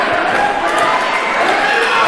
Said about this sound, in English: And this near capacity crowd here loving it.